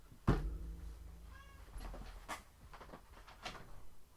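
A house cat gives one short meow, fairly close, within soft indoor rustling and a door-like knock, with no talk over it.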